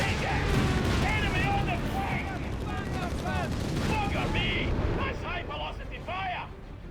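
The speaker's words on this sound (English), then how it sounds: "More rocket strikes here, almost taking out the engineer squad. And a strafing on the machine gun." Rocket strikes and machine-gun strafing in the Company of Heroes 3 strategy game, a steady roar of explosions and rattling fire with whistling projectiles, loud and continuous, easing off toward the end.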